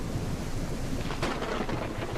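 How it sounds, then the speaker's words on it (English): Thunderstorm in the ship-handling game Ship Simulator, with steady rain hiss throughout and a deeper rumble of thunder swelling in the second half, alone with no talk. "Crazy, we're starting with a storm."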